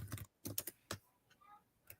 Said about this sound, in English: It's a lot of furious typing from JSAPs.